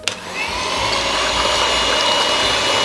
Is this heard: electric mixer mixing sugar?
yes